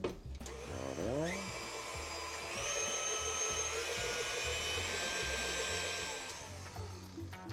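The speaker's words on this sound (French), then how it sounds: "on va faire monter au batteur" An electric hand mixer whips chantilly cream for a chocolatier's confection, a steady close motor whine that drops in pitch as it starts, then holds a continuous buzzing drone for several seconds before winding down.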